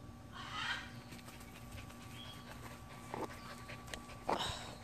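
A dog pants in short bursts and gives a few soft whimpers, close by, over a steady low background hum with no talk.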